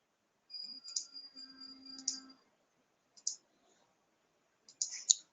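Computer mouse clicking while options are selected in a hospital pharmacy software module, a handful of sharp, close clicks spaced irregularly with quiet gaps between them.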